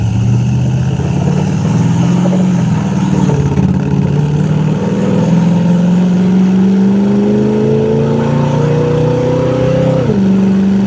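A 1973 Chevrolet Corvette with a numbers-matching big block engine accelerates on the road, its loud engine tone rising steadily in pitch over several seconds before dropping sharply at a gear shift near the end.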